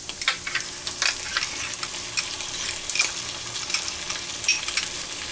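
A spatula works barbecue sauce through sizzling meat in a pan, giving a steady bed of frying hiss broken by soft scraping and clicking strokes, close and without speech.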